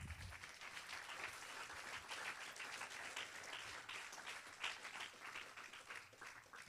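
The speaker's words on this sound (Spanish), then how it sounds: "¿Cuántos aplauden al Señor?" A church congregation claps continuously, a dense, even wash of applause that stays fairly distant and soft throughout.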